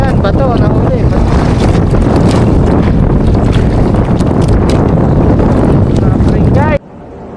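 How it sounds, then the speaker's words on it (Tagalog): Strong wind roars at sea aboard a boat, a loud continuous gusting rush with buffeting against the microphone and water noise, while voices talk over it until it cuts off abruptly near the end. "mahangin"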